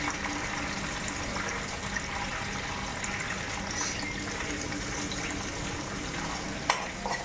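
Sliced onion frying in oil with crisp curry leaves and green chillies gives a steady, moderate sizzle and bubbling hiss throughout, with a small clink near the end and no speech.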